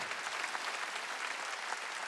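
A church congregation at a Wednesday worship service claps together, a brief, even burst of many hands that fills the short moment without talk.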